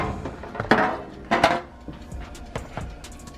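Thin aluminum baking pan handled in a home kitchen while Thanksgiving chicken dressing is prepared, giving two bright metallic clatters close by followed by lighter taps and scrapes.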